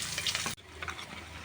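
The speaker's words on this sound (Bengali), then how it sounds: "একটু গোটা জিরে ফোড়ন, দুটো বড় বড় পেঁয়াজ কেটে দিয়ে দিচ্ছি।" Whole cumin and chopped onions fry in hot oil, a close sizzle that cuts off abruptly midway and resumes as a quieter, steady frying hiss.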